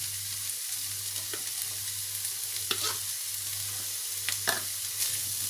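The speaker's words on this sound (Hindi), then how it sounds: "इनको भी भूनेंगे" Peas and green chilies frying in a pan of vegetables for a spring roll filling, a steady soft sizzle with a few scraping stirs of a spoon, fairly quiet and close, no voices.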